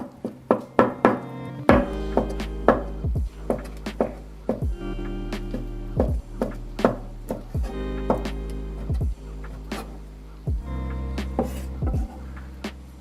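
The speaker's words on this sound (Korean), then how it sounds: "밥에 넣고 비벼서 오늘 살 거라서 최대한으로 얇게 썰어야 돼" A knife thinly slices mushrooms on a cutting board, each stroke landing as a distinct knock in an uneven but steady rhythm, with roughly twenty close, clear strikes.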